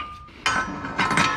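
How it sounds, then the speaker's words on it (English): A slide hammer being used to pull the wheel hub off a Honda Civic hatchback gives sharp metallic clanks, two or three close impacts in quick succession after a brief tone. "it's a lot easier to just use the slide hammer to pull the hub out"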